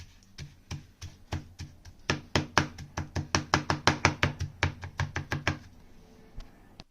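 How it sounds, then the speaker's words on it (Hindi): A knife chops eggplant by hand on a cutting board for a smoky baingan bharta, a quick run of crisp, close, regular taps that speeds up and grows louder in the middle before stopping. "बैंगन को मैंने चॉप कर लिया।"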